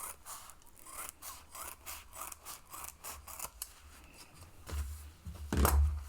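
Scissors trim fabric seam allowance while a zippered bag is sewn, giving a run of quick, close, rhythmic snips followed by louder rustling and handling of the material.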